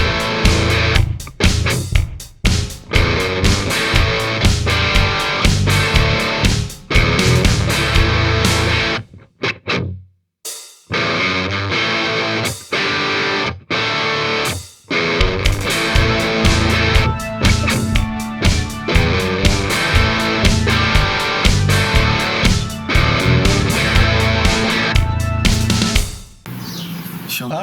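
Loud, cranked, heavily distorted electric guitar amp captured by a Shure SM57 microphone, dense chugging riffs with brief dropouts and sharp stops, close and aggressive, no talking.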